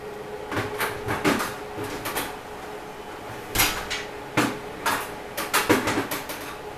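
A door scrapes and knocks against a metal bar beside it, giving several sharp clacks and bumps spaced irregularly, close by in an indoor room.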